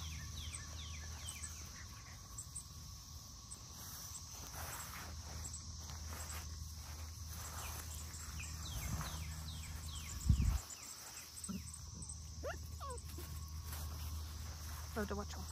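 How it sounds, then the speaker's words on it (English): Cicadas or crickets drone steadily in an outdoor setting where doodle puppies play, a continuous high insect buzz running throughout, with faint scattered chirps, light footsteps and a brief low thump near the middle. "the cicadas have been pretty loud in the background"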